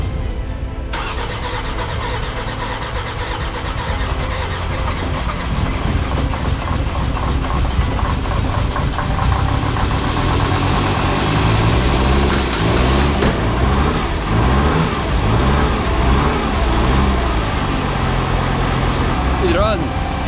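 Jeep Grand Cherokee WJ with the 2.7 CRD OM612 diesel engine after a fresh engine swap, catching and starting, then clattering into a loud, steady idle that runs for the whole stretch.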